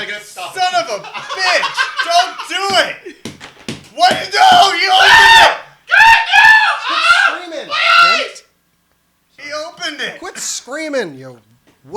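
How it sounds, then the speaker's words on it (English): A man lets out loud, shrill screams in short bursts amid excited shouting and laughter from several people, voices close and overlapping, with a brief silent pause near the end. "He has like a girlish scream."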